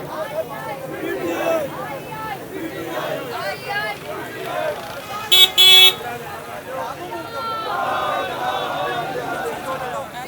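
Car horns honk in a traffic jam on Mall Road in Lahore, with short toots and one loud blast mid-way rising over a dense crowd of chattering, shouting voices.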